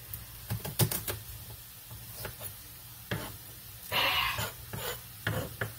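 A kitchen knife chopping onions on a board, heard as irregular close knocks and quick runs of cuts with a brief rasping scrape partway through.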